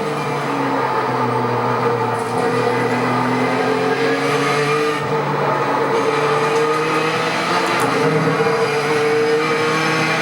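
Ford GTE race car engine in the iRacing simulator, a loud, steady, close engine drone with pitch rising and falling through gear changes and no talking.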